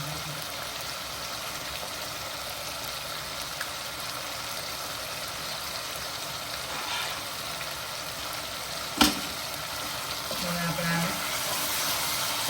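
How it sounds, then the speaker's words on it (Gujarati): Spices roasting in hot oil for a Kathiyawadi-style curry, a steady soft sizzle running throughout with a single sharp clink near the end and no talking. "સરસ મજાના મસાલાની સાથે તેલની અંદર શેકી લઈશું"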